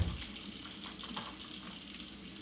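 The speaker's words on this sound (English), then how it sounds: "you let hot water run down your garbage disposal" Hot water runs steadily from a kitchen tap into a sink garbage disposal. The rushing, hissing flow is close and continuous throughout, and nobody speaks.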